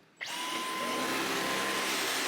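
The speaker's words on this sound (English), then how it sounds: "My 1-minute review of the Dyson vacuum is that I love that it's cordless." A Dyson cordless vacuum cleaner starts up abruptly and runs with a steady, loud high-pitched whine close by, used to clean hair off a bathroom floor.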